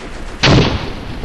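A single loud, booming gunshot from the World War I shooter Verdun cracks out abruptly and rings briefly before fading into the ambient battlefield background.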